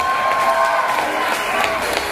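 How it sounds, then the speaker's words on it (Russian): An audience applauds and cheers after the winner of a sparring bout is announced: a dense, continuous roar of clapping and crowd noise, loud and close, without pause. "Аплодисменты!"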